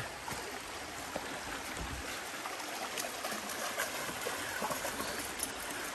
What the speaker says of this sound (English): you're able to hear that river along the whole lot